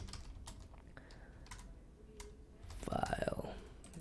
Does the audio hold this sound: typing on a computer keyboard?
yes